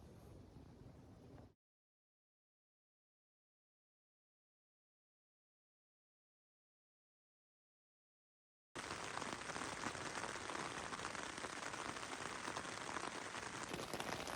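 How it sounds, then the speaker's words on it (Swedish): Rain falling during a mountain hike on the Padjelantaleden trail in Laponia, a steady dense patter heard briefly at the start, then a gap of silence before the rain returns loud and continuous. "Det regnar en del"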